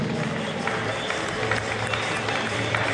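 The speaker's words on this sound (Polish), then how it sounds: "Brawa dla tenisistów." Applause for tennis players at an indoor New Year's tournament prize ceremony in a hall, dense steady clapping from a crowd with a constant noisy background and no clear break.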